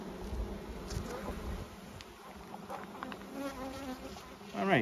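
Honey bees, both workers and drones, swarm around an open hive frame, making a dense, close insect buzz that hums steadily throughout with shifting individual wingbeats and no talking.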